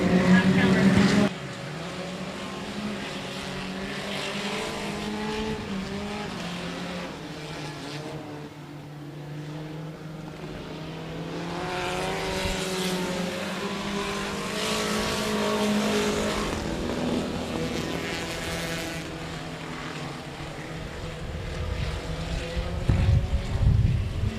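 Race cars circling a speedway during a regular Saturday night race program, a continuous engine drone that rises and falls as cars pass, heard under steady commentary from an announcer.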